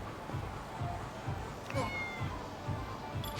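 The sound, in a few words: cat meowing in video game Lost Judgment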